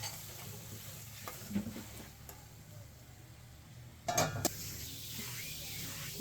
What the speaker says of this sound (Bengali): এরপর সব কিছু ভালো মতো নেড়ে সেদ্ধ হওয়া পর্যন্ত অপেক্ষা করব।